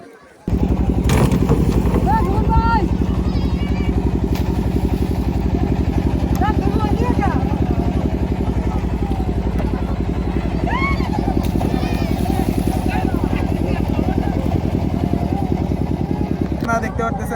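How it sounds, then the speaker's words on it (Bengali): A trawler engine running steadily on the Madhumati river in Gopalganj, a loud continuous chugging drone up close that lasts throughout, with voices talking faintly over it. "তো এই যে ট্রলার চলে আসছে।"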